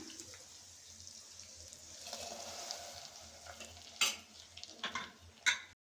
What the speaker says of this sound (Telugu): పోపు వేగిందండి. సాంబార్లోకి వేసుకుందాం.